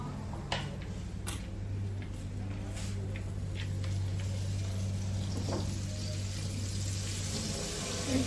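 New potatoes frying in oil make a soft steady sizzle with scattered pops and clicks, fairly quiet over a low constant hum.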